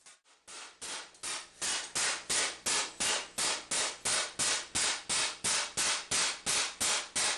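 Steady, evenly spaced hammer blows ring out on a steel 14th-century barrel helm as it is beaten back into shape, about three strikes per second, close and loud with metallic clang and no talk.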